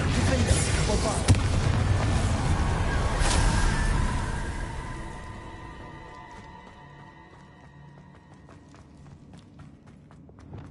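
A Bombarda blast spell from the Hogwarts Legacy video game erupts in a loud, booming rumble amid combat clatter, then fades into a quieter ringing tail as a voice speaks over the fight.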